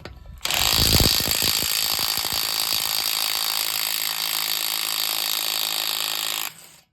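A Bosch impact driver (⅜-inch drive) hammers continuously at close range for about six seconds, a loud, dense rattling burst that starts abruptly and cuts off sharply, with no talk over it.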